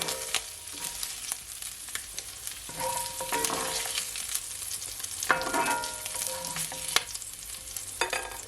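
Bacon sizzles and crackles in a pot, a steady frying hiss with occasional pops and scraping stirs, fairly quiet and close, no voices.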